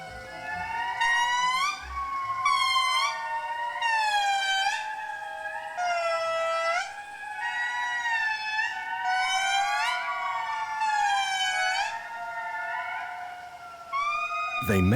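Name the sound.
indri lemurs calling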